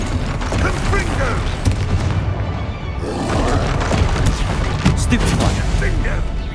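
The Confringo fire-blast spell in the Hogwarts Legacy video game goes off as booming, thudding explosions over a dense, continuous wash of combat noise, loud and close throughout.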